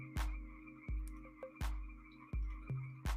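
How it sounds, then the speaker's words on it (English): A frog in a murky bog croaks repeatedly, about every 0.7 seconds: low, resonant pulses with sharp onsets, standing out clearly over a quiet watery ambience with no talking. "Yeah, frog. Frog is good."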